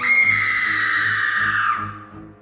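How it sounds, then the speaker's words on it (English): Piercing high-pitched scream, loud and sustained for nearly two seconds before breaking off, with a faint rhythmic low thumping underneath. "my appreciation of wordplay was interrupted by a blood-curdling scream."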